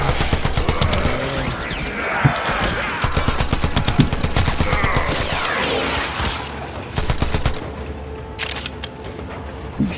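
Rapid bursts of gunfire from the Warframe video game rattle loud and close in repeated volleys of crisp shots, with short pauses and a few heavier booms between runs.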